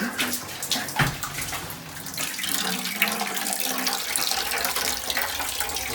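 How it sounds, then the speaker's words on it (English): Water gushes from a faucet into a tub, a loud, steady splashing rush that fills the whole clip. "Turning the water on."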